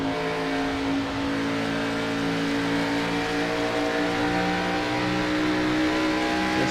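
Onboard a race car at Homestead during ANZCAR Thunder racing, the engine droning loud and close at sustained high revs with a strong steady whine and slight rises in pitch.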